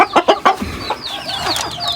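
Chickens and a rooster cluck in a short burst of several loud, close calls, followed by higher squawks and chatter from the flock.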